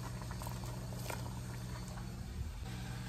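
A pot of water heating on the stove with cassava sticks (chikwang) plunged in gives a steady low bubbling rumble with soft irregular pops, continuous and close, with no voices.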